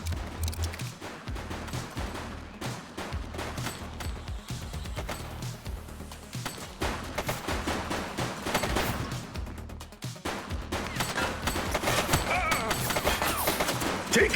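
Sustained gunfire in the police video game The Precinct: dense volleys of rapid shots and bursts, loud and close, continuing in heavy waves with brief pauses, thuds mixed in and occasional voices.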